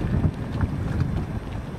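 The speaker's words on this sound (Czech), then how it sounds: "Loď Cap Ferret" A 2010 Cap Ferret 502 Walker fiberglass boat passes during a boat parade on open water, its low, steady rumble close to the microphone and blended with gusty wind noise.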